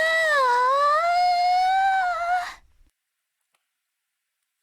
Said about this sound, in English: Long dramatic yawn.